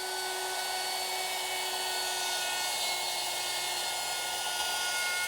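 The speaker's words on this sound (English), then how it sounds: "using my router, which is equipped with a dovetailing bit, and more importantly, this little collar, which will ride along the edges of the template, I can now cut the male part of the dovetail" A router fitted with a dovetail bit and guide collar cuts the male part of a dovetail in a wooden chair-table side piece, a steady loud high-pitched whine with hissing cutting noise that holds throughout.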